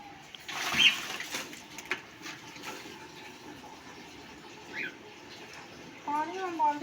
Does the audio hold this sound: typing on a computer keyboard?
no